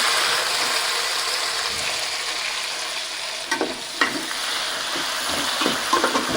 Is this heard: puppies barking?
no